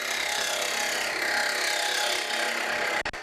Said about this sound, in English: Start the lathe up again and continue with the cuts.